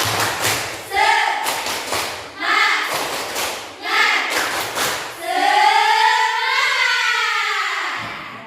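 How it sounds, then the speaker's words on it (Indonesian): A school class claps a rhythmic spirit cheer in bursts of quick hand claps, broken up by a group of children chanting together and an adult voice leading. "Yuk kita tepuk semangat dulu"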